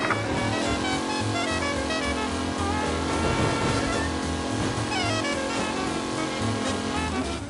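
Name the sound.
race car driving, video game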